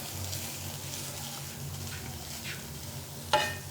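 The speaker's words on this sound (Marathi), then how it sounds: "एक 5 ते 10 मिनटं आपण बटाटा छानपैकी परतून घ्यायचा आहे" Potatoes for fasting batata vada are stir-fried in oil with chilies, sizzling steadily close by while a utensil scrapes and turns them, ending with a sharp clink near the end.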